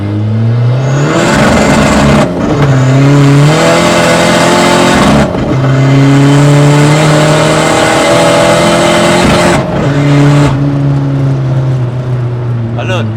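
A Seat Ibiza 6K2 PD diesel with a titanium exhaust line, heard from inside the car: loud repeated revving and acceleration through several gear pulls, each climbing whine cut by brief drops at shifts, with people talking over it.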